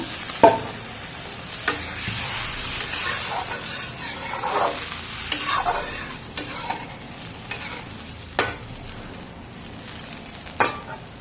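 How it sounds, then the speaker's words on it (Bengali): Egg curry sizzles steadily in a pan after water is added, a constant broad hiss broken by sharp spoon clicks and scraping as it is stirred now and then. "এখানে আমি পরিমাণ মতন জল দিয়ে দিলাম"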